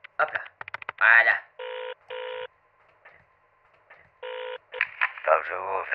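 A telephone number is dialed, several distinct touch-tone beeps in short bursts between brief spoken remarks and quiet gaps, with a voice talking at the start and end.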